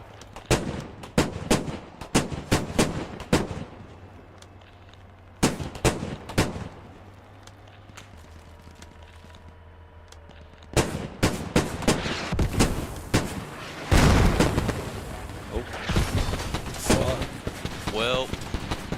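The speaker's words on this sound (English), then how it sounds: "there's a guy shooting mortars right here" Bursts of video-game gunfire and heavy mortar blasts crack in clusters, some loud and close, others more distant, with rapid volleys building toward the end and voices talking between shots.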